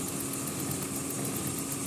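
A car air conditioner compressor runs with the engine on, giving a continuous dense engine hum and hiss at steady level, close by with no voices.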